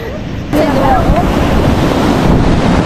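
Ocean surf at Nagtabon Beach rushes loudly close by, with heavy wind buffeting the microphone after a brief quieter moment.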